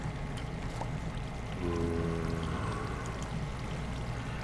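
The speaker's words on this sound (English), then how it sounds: "If I put water here and I break this and this, it will spread out right." Water poured in a block-building video game spreads out with a soft, steady flowing and trickling wash, fairly loud and continuous, with no talking.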